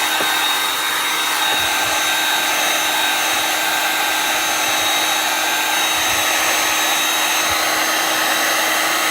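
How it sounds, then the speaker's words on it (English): A high-temperature heat tool blows steadily while warming and softening wax, a constant loud whooshing hum with no breaks from start to finish. "I'm going to get my high temperature heat tool here. I'm going to try to warm it up a little bit just to soften it."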